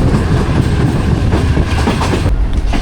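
A Pak Business Express train rolls through Lahore Cantt, its loud, continuous rumble and clickety-clack of wheels on rails filling the sound up close, with no voices.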